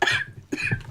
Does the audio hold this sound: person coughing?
yes